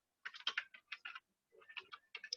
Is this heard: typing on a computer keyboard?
yes